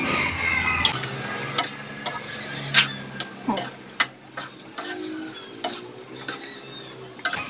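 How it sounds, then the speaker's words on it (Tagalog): A spoon stirs and taps through a thick, freshly crushed turmeric and chili paste with red siling labuyo and green chili, giving a series of sharp, irregular clicks and scrapes against the bowl, close and fairly quiet. "Haluin natin."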